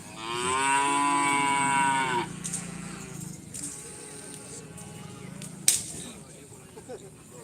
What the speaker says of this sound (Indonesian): Sapi besarnya guys.